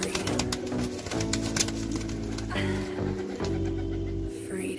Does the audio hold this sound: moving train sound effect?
no